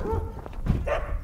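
Sled dogs trained to run on ice, one of a team of 38 readied for the Mongolian winter, giving a few close sharp barks and yips with a brief whimper in between.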